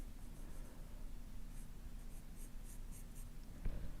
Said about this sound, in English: then I'll come in with like a general's charcoal pencil, and then work on it